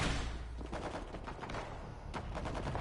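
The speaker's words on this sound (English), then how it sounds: "Sounds like M16s." Distant M16 rifle fire crackles in repeated bursts during a World War Z game, muffled and fairly faint under a dense, noisy background.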